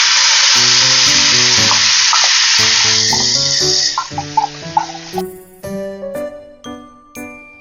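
Ridge gourd going into a hot pan of fried onion and garlic with dried red chilli, a loud steady sizzle that breaks into rhythmic stirring clinks and scrapes, then fades to softer crackling.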